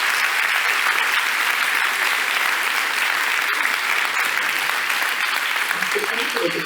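An audience applauds at length, a dense, steady wash of clapping that stays loud and even, with a voice faintly audible under it near the end.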